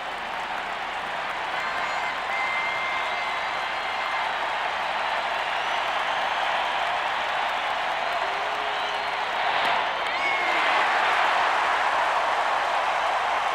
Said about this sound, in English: this crowd hooting and hollering on each pitch